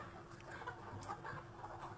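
Chickens cluck softly and continuously in a poultry-raising setting, a faint, busy flock murmur with no talk.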